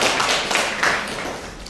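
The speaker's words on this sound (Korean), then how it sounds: "큰 박수로 청해 듣겠습니다" Applause from a symposium audience greeting the next speaker, a steady wash of many hands clapping at once, fairly close and even in loudness, with no talking over it.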